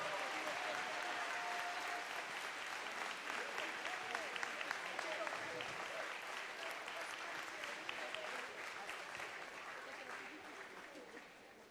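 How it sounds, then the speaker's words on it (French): An audience at a New Year's greetings event claps steadily and densely, a sustained wash of applause at moderate distance that fades slightly toward the end. "Allez, on peut les applaudir bien plus fort que ça,"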